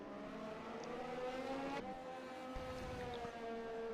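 The steady high-pitched engine whine of a Haas F1 car heard onboard in a racing game, continuous and droning, with a brief shift in pitch partway through.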